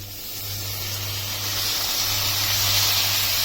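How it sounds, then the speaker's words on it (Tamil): Water poured into a pan of sautéed broad beans masala for poriyal, a close, steady hissing sizzle that builds slightly louder over a few seconds with no voices. "ஒரு டம்ளர் அளவுக்கு நம்ம தண்ணி ஊற்றினா போதும்."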